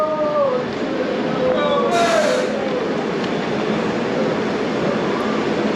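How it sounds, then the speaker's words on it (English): A London Underground Piccadilly line train pulls away from the platform with a broad, rising rush and rumble, a whistling squeal at the start, and a short hiss burst partway through. "this platform serves trains for Arnesgrove and Cockfosters. Just leaving right now, one of them."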